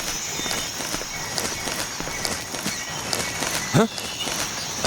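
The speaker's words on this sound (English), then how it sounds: "I hear footsteps." Footsteps in the stealth video game Metal Gear Solid 3: Snake Eater, a steady series of soft running steps under a game background tone, with a brief spoken exclamation.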